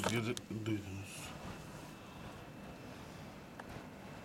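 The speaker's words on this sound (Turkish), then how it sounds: "Bu rüzgarı duydunuz." Strong wind blows through a snowy winter street in Istanbul as a steady, rushing broadband roar, with a voice heard briefly at the start before the wind carries on alone.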